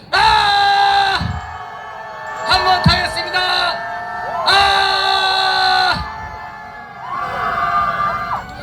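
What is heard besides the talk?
crowd shouting and cheering at a rally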